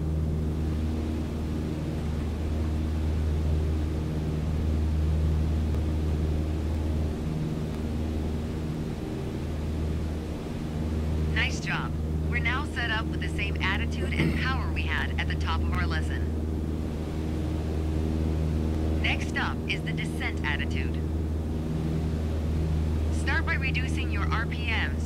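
A steady, droning light-aircraft engine holds at cruise RPM in Microsoft Flight Simulator, a constant low hum throughout, with brief bursts of a voice speaking over it in the second half.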